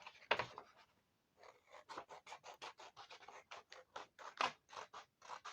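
Scissors cutting around a stamped paper card, a quick run of short, even scratchy snips close by and quiet, following a brief rustle and a pause.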